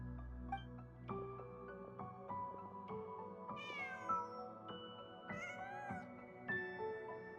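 A cat in the Genshin Impact video game gives a few short, rising meows over a steady tonal game backdrop, close and clear with no talking.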